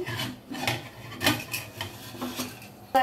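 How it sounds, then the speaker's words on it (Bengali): Metallic clanks and rubbing scrapes come from a pressure cooker lid being twisted and lifted off a pot of beef, close up and with no talking. "তো এখন আমি ঢাকনাটা খুলে নিচ্ছি।"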